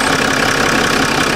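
A 2017 Land Rover Discovery 3.0 turbo diesel with a turbo fault and lack of power idles close up, a loud, steady, dense rumble with no talking.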